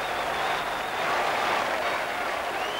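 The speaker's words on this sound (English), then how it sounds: "He knew just who to thank, and Rick Holden led the applause." A football crowd at a 1991 League Cup match applauds a hat-trick goal, a dense, steady wash of distant clapping and cheering with a faint whistle-like tone riding above it.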